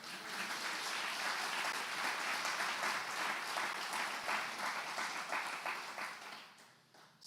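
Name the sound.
congregation giving loud applause in church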